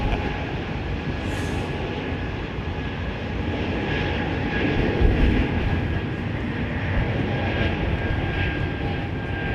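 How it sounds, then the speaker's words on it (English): Airbus A330-200 airliner with GE CF6 engines at London Heathrow, producing a steady, broad engine roar with a mild swell midway, no talking. "GE CF6 the Airbus A330-200"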